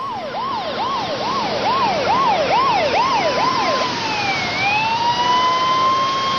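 McDowell County Ambulance Authority ambulance siren blaring close and loud, a rapid rising-and-falling wail repeating several times before switching to a slower, long sweeping tone over steady engine rumble.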